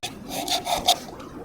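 Rasping saw strokes cut notches for a crab trap cage, with a few close, even scraping pulses in quick succession.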